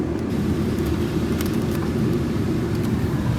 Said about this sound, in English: we got our AC turned to max.